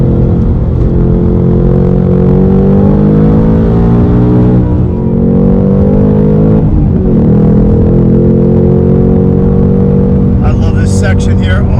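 A 2021 Ford Mustang Mach 1 runs on a track, its engine droning loud and close with a steady low harmonic hum that sags and shifts pitch as it slows under braking, then rises again near the end.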